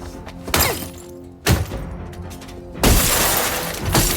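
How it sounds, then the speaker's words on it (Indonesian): Car window glass shatters loudly three times, each crash a sharp burst followed by tinkling fragments, with quieter rustling between the impacts. "Ia keluar dan memecahkan semua kaca jendela mobil Murphy."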